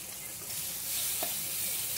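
Spices with turmeric, chili powder and green chili fry in oil in a pan, a soft steady sizzle close by with a faint stir.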